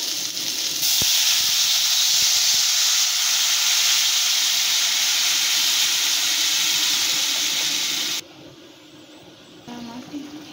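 Water poured into a hot hilsa fish curry sets off a loud, close, steady hiss lasting about seven seconds before cutting off abruptly into a quiet bubbling simmer.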